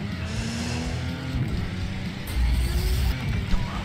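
Car engine roaring steadily with a nitro boost in the Flatout 4 racing game, loud and sustained, rising in intensity partway through.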